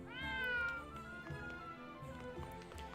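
A cat meows repeatedly in the video game Triangle Strategy, the calls clear and near over the game's steady background music, with no talk.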